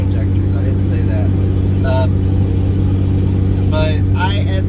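A 2004 Cummins 5.9 diesel truck towing up a grade drones with a steady, heavy low rumble inside the cab, constant and loud, while someone talks over it in short phrases.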